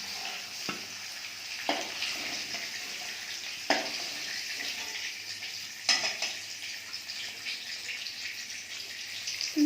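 Paneer cubes fry in a pan with a continuous soft sizzle, punctuated by occasional sharp clicks and scrapes from stirring, heard close and alone without speech.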